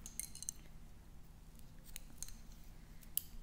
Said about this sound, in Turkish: Ve kilitledikten sonra buradaki ipimi de kesiyorum.